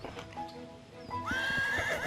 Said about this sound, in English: just the sweetest horse when he's around me